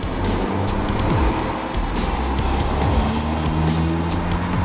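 An Audi S3 Sedan accelerating hard: a loud, continuous engine roar with rising tones and tire noise, close and steady throughout.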